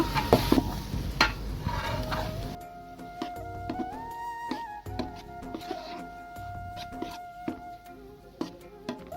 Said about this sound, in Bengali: মশলাগুলো ভালো করে কষিয়ে ডালটা দিয়ে এই ডালটাকে আমি ভালো করে ভেজে নেব